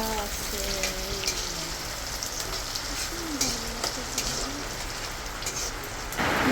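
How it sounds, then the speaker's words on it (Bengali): Steady rain patters and hisses outside, with a faint voice and a few brief tones drifting over the constant wash. "বাইরে আমার বৃষ্টি হইতেছে।"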